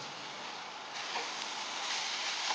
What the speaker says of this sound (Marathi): आता व्यवस्थित आपण सगळं परतून घ्यायचं आहे